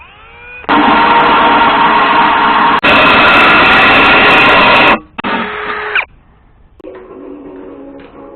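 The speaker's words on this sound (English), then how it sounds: "I gotta drill a hole. Got my drill here." A power drill boring a hole through wall tile whines loudly and steadily in long bursts, stopping and restarting several times, with a quieter motor hum at the end.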